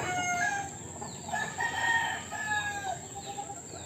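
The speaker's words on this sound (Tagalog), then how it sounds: "So dami ba naman ng manok?" Several roosters crow in drawn-out calls while hens cluck around them at a backyard flock in the Philippines, with overlapping voices at moderate distance.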